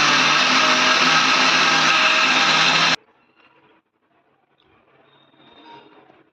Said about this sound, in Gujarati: આપણે આમાં ખાંડ નાખી દીધી છે, લીલા મરચા, આદુ ને કોથમીર અને ઓલા જીરું, આખો જીરું. હવે પીસી લેવાનું.